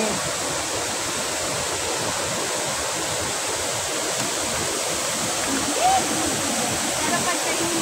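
Steady roar of a waterfall heard close by, a dense unbroken rush of falling water that stays loud and even throughout, with a brief faint voice near the end.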